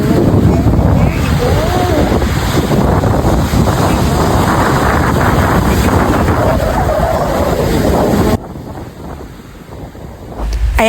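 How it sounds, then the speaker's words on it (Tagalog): Strong sea waves surge and crash in rough, windy weather, a dense roar with heavy wind buffeting the microphone, easing suddenly near the end. "Ang lakas ng hampas ng alon."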